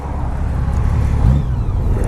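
Smooth, steady low rumble of a 2014 Honda Valkyrie flat-six motorcycle engine running under way, close and fairly loud with no talk.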